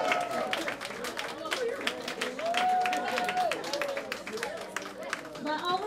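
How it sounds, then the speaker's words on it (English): Guests at a spa's first anniversary welcome event clap in a loose, scattered round of applause that mixes with lively voices and chatter throughout. "I think I need an applause for that."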